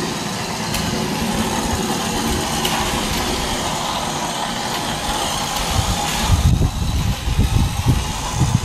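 A remote-controlled 1:24 Mini Cooper rally car drives over rough ground, its small electric motor whining steadily close by, growing rougher and louder with bumpy scraping toward the end.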